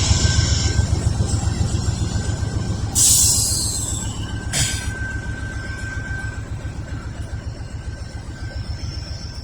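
A fully loaded Norfolk Southern freight train with a distributed power unit rolls past close by, wheels thumping in a steady rhythm on the rails, with a brief squeal and a sustained whine, loud throughout.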